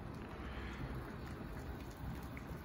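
Water at a rolling boil in a kettle fitted with new heating elements, giving a steady, soft, continuous bubbling hiss with no breaks.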